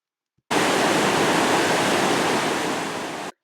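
Frothing creek water rushes below a rope trolley crossing on the Slocan/Galena Trail in British Columbia. A loud, dense, steady roar starts abruptly and cuts off after about three seconds.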